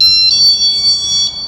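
A loud electronic beep sounds indoors in a Florida home near its lanai area: one sustained, high-pitched tone, close and clear, lasting over a second.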